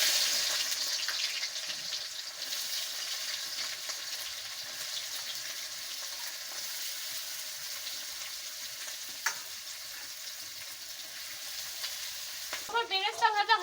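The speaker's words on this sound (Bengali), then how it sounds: "তেল গরম হয়ে গেছে, এলা পেঁয়াজগুলো দিয়ে দিন" Sliced onions fry in hot oil for beresta, a biryani garnish, with a steady, bright sizzle filling the whole stretch, a few stirring clicks, and a brief rattling sound near the end.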